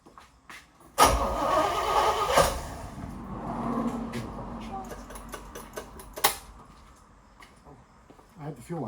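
A big block V8 in a 1972 Chevrolet Nova cranks and catches with a loud burst, settles into a rough rumbling idle, then blips sharply once more before fading back to a steady run, with some voices talking nearby.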